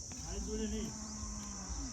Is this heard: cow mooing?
yes